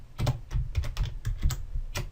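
Computer keyboard keys clatter in a quick, uneven run of close, crisp taps while a command is entered in MATLAB, with no talking.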